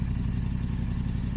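A Yamaha R7 motorcycle with an aftermarket Akrapovic exhaust idles with a deep, throaty, rumbling exhaust note, steady and close, with a slightly uneven rhythmic chug throughout.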